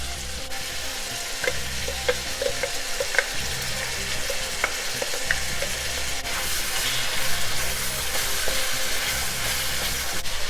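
Garlic and spices fry in a pan, giving a loud, steady, dense sizzle that runs unbroken throughout, with occasional small ticks of the utensil and no talking.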